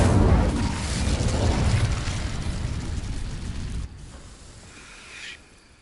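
A fire spell from Hogwarts Legacy ignites dry vines with a loud roaring whoosh of flame that holds for several seconds, then drops abruptly to a softer crackling tail.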